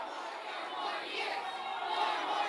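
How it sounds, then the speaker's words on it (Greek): Pro-Palestinian protesters booing during a speech on abortion, a sustained wash of crowd jeers and shouting that swells slightly, heard from a distance in a large room. "οι αποδοκιμασίες συνεχίστηκαν"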